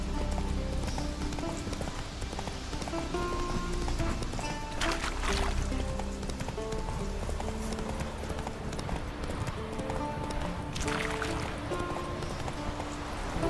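Horse hooves clip-clop steadily at a gallop in The Witcher 3 video game, a continuous rhythmic pounding close up, with faint ambient game sounds behind it.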